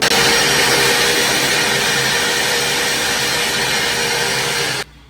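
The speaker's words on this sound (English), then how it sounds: "So we'll go ahead and vacuum this out first." A vacuum roars steadily at close range for several seconds, then cuts off abruptly, while cleaning out a drilled hole during a shower glass door installation.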